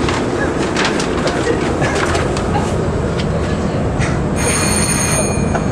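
A tram rolls along a street in Tallinn, a loud steady rumble of wheels on rails with squeals and a brief bell-like ringing near the end.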